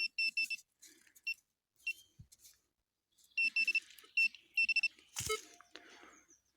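Short electronic metal detector beeps sound in clusters, with gaps between bursts and a brief scrape of digging near the end.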